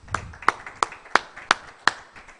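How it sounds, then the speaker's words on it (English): Applause for conference panelists: six slow, evenly spaced claps, sharp and fairly close, with quiet gaps between them. "they all deserve a big round of applause"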